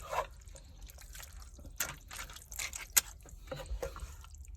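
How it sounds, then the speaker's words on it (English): Macaroni is stirred in a pot of water while cooking inside a semi truck, giving quiet, irregular liquid sloshes, drips and soft scrapes, with a few sharper clinks. "Okay, I got the macaroni in there. Let me stir that around a little bit."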